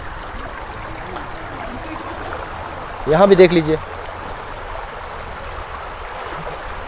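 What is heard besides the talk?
floodwater flowing from greenhouse toward fields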